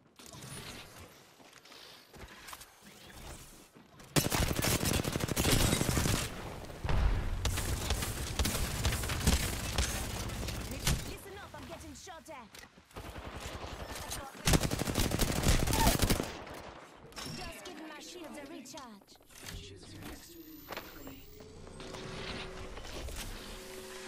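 Gunfire in the video game Apex Legends: loud, close bursts of automatic weapon fire that rattle and pause, then pick up again, with quieter mechanical clatter between volleys.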